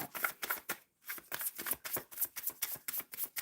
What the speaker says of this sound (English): Shuffling for Soma Sharma